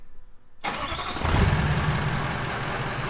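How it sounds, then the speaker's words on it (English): A Toyota FJ45 engine cranks and fires after a short quiet moment, catching with a loud burst and settling into a strong, rough, steady running rumble close by. "The motor actually runs."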